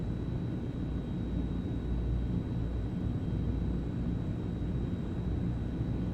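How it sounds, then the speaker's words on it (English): Constant loud engine drone and airflow of a Transall C-160 transport plane in flight, a steady broadband roar with a faint tonal whine running throughout and no voices. "It's a great plane."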